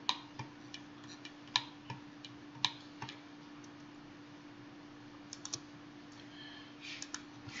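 Sparse keystrokes on a computer keyboard as numbers are typed into estimating software, short clicks in small clusters over a faint steady hum, fairly quiet and close, with no talking.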